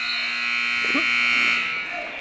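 A high school wrestling match buzzer in a gym sounds as one long, steady, buzzing electronic tone that runs for about two seconds, with brief voices and crowd noise underneath.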